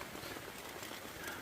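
Torrential rain falling on a camping tent, a dense continuous patter and hiss at close range, with a faint bird call in the background and no talking.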